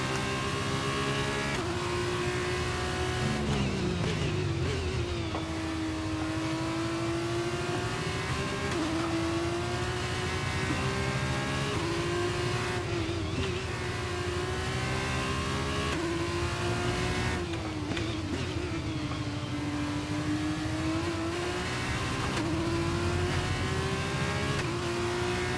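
Formula 1 race car engines in a video game race, tucked in a rival's slipstream: a steady, loud high-pitched whine rising and falling with gear changes and throttle, continuous with no talking.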